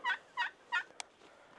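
Three evenly spaced calls from a wild turkey hen during a turkey hunt, fairly faint and slightly distant, followed by a brief click.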